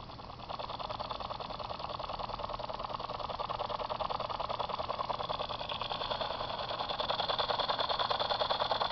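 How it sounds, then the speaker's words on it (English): A pulse motor circuit runs with a steady, fast rhythmic buzzing and rattling drone at close range, holding an even pace throughout. "That's the pulse motor circuit."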